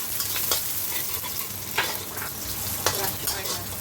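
Onion and garlic frying and being stirred in hot cooking oil for a chilli beef and cabbage stir fry, a steady close sizzle with a few sharper scraping stir strokes, no talking.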